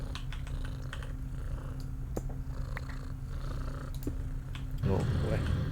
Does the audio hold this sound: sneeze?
no